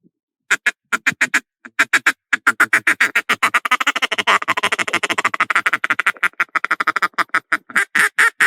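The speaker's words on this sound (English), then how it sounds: "And then does your chuckles really well." Rapid, rhythmic chuckles on a DJ Duck Calls duck call, a fast run of short clucking notes that speeds into a dense rolling stream, loud and close with no talking.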